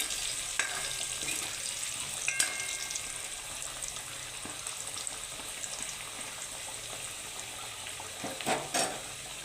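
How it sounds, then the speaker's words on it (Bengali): Potatoes fry in a pan for a Bengali mutton curry, giving a soft continuous sizzle with occasional clinks and stirring scrapes, faint and close, with a few sharper knocks near the end. "এই যে আমার আলুটাও ভাজা হয়ে গেছে।"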